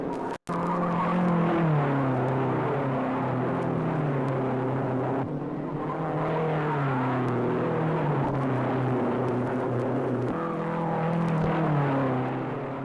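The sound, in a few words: race cars racing at the 1955 Indianapolis 500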